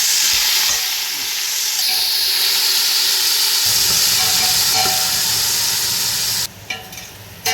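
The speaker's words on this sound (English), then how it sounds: "Add biryani spices and let it fry." Biryani spices fry in hot ghee in a pan with a steady, loud sizzle throughout, while a spoon stirs and scrapes at intervals close by; the hiss briefly dips near the end.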